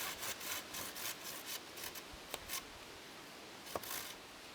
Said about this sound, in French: C'est parti pour la découpe de l'arc.